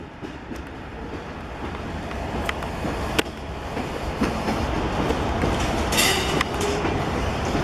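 A train rolls past on the rails in Roanoke, a broad steady rumble of wheels building in loudness with sharp metallic clicks and clanks from the joints, close by and with no one talking.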